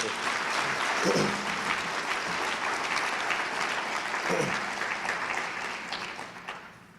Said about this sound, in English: Can we give that brother another round of applause, please?